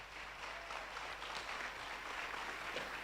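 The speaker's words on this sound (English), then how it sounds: "Let's give a round of applause." Applause from the audience at a South African commemoration event for the International Day for Disaster Reduction, a steady, fairly distant patter of many hands filling the whole stretch at low level.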